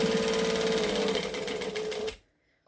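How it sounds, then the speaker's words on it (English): A sewing machine runs steadily, chain stitching and top stitching a pocket, its needle whirring close and loud for about two seconds before it stops abruptly into near silence. "I'm now going to chain stitch and top stitch this one as well"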